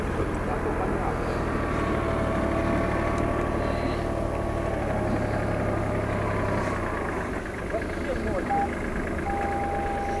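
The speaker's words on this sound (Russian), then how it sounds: "Сейчас трактор." A tractor engine drones at a moderate distance during an outdoor quad-bike outing, a steady low hum with people talking over it, the engine dropping in pitch partway through.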